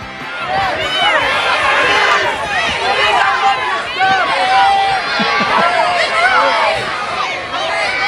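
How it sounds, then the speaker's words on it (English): Large crowd of children at a Little League baseball event, a dense, loud wash of shouting, high-pitched chatter and cheering that continues throughout without pause. "That's the sound of Jacob Mizorowski just trying to get around at this whole Little League event"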